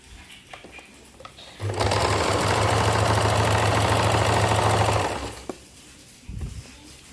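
An electric sewing machine runs for about three seconds while stitching fabric lining, a steady buzzing whir close by, with quiet handling sounds before and after.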